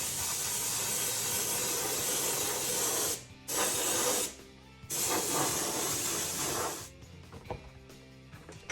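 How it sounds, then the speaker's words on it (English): Steady spray hiss from an airbrush painting a model Ford Pinto drag car body, cutting off briefly twice with short gaps, then fading into quieter scattered hissing near the end. "Go ahead and spray the 2300"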